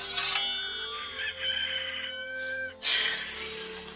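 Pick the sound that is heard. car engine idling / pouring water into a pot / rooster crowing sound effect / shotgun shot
rooster crowing sound effect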